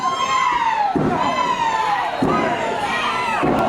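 A wrestling crowd chants a rhythmic count in unison, with three loud, drawn-out group shouts rising and falling under an arena's constant roar.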